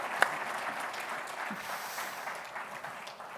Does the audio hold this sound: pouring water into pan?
no